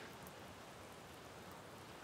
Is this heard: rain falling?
yes